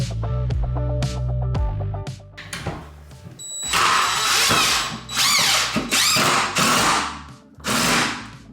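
A power drill whirs in short bursts, then grinds in several longer, straining pulses as a screw bites into a wall stud, close and loud.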